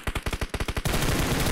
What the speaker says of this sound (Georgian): გაბოს მარკზე არის სროლა